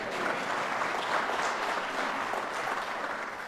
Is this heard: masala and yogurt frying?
no